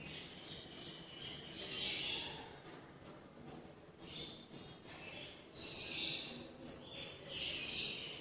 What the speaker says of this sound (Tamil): இப்போ இதை கட் பண்ணி எடுத்துக்கலாம்.